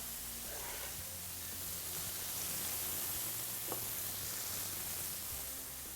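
Chopped thyme thrown into a hot frying pan, giving a steady broadband sizzle and crackle that holds through the whole moment, close and fairly quiet, with one brief clink near the end.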